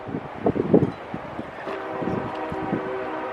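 Outdoor wind gusts beside a Winnebago Micro Minnie 2108TB RV, buffeting the microphone in low rumbling bursts that peak early, then settle into a steady blustery roar.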